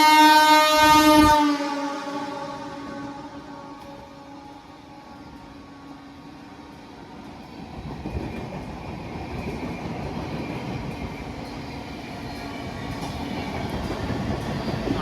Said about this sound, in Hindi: इस ट्रेन को क्रॉस कराने के बाद तब चलेगी हमारी ट्रेन। ये लो जी, ये ट्रेन गई